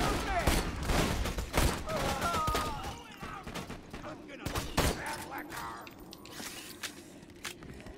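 Rapid rifle fire in Borderlands 2, a string of sharp close shots with uneven spacing that thin out toward the end, and people talking over them.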